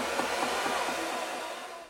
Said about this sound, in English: hitting it with the cool light setting of the hair dryer